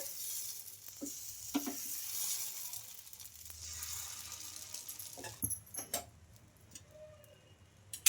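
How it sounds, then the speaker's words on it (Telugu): Puffed rice dosa batter sizzling on a hot pan, a soft steady frying hiss with a few clicks and light scraping taps from a utensil near the end. "ఒక గెరిటె పిండిని అయితే తీసుకొని ఈ దోశ పిండం పైన వేసుకొని ఇలా స్ప్రెడ్ చేసుకోవాలి"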